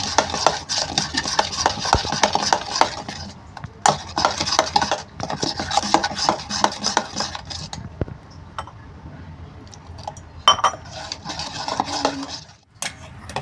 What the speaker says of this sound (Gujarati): પહેલાં આપણે આને બધું મિક્સ કરી દઈશું